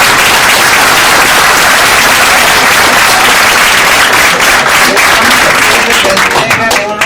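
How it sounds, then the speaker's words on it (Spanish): Loud, dense applause fills a circular economy seminar hall at the Instituto Politécnico Nacional as the audience claps for invited guests, sustained and close without a break. "vamos a darle un fuerte aplauso a nuestros invitados"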